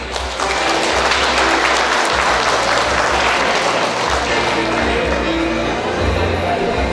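A large audience at a Pelotas club's 45th anniversary celebration applauds loudly and continuously, a dense wash of clapping with crowd murmur underneath.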